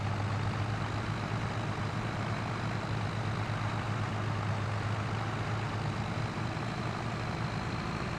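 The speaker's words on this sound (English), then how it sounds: "I do like the noise of these engines." Old tractor engines in Farming Simulator 25 drone steadily at high revs with a strong low hum, a continuous loud thrash that runs unbroken throughout.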